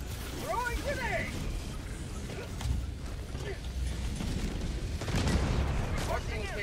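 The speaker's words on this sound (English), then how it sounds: "Throwing grenade!" Grenade blast and rapid gunfire in a team shooter video game near a bunker, loud and dense throughout with bursts of firing and a heavier boom, under a player's voice calling out.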